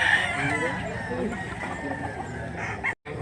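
A rooster crows loudly and steadily through most of the clip over a busy outdoor background, ending with a brief cut.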